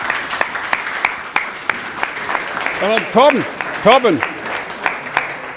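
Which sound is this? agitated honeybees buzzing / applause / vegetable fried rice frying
applause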